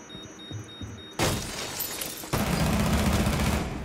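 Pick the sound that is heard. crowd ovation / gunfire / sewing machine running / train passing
gunfire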